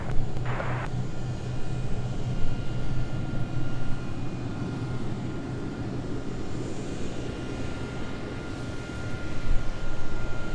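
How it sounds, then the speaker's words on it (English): Delta jet arriving from Houston at Minneapolis–St. Paul airport, a steady distant roar of engines and rushing air that swells slightly toward the end. "Delta 2656 from Houston will be our next arrival."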